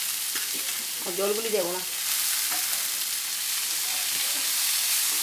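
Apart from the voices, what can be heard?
radish greens frying in a pan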